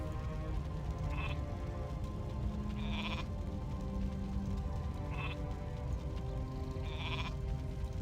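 Sheep bleating in the Warcraft 3 video game, four short bleats spaced a couple of seconds apart over a steady, quiet game background.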